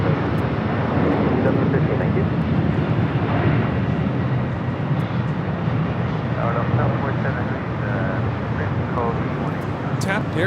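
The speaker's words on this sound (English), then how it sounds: "taking off to Lisbon on the A330 Neo" An Airbus A330neo airliner takes off from Los Angeles bound for Lisbon, its engines a steady, broad roar that fills the scene without pause, with a voice talking over it.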